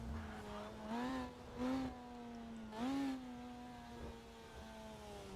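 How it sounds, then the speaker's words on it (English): Drift car engine holding a steady high buzzing note that sounds like a motorcycle, with three brief revving surges over a sustained drone, heard from a distance at a drift championship. "It sounds like a fucking motorcycle, man."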